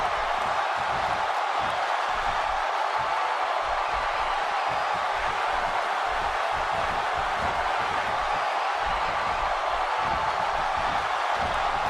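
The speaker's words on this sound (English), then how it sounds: "Another electric crowd on hand here for SmackDown" Arena crowd from the WWE 2K17 video game during a SmackDown women's elimination tag match, a constant dense roar of cheering at steady loudness throughout, with no clear individual voices.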